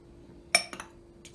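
A spoon stirs egg whites and salt in a bowl, giving two or three quick, bright clinks against the bowl over a quiet background.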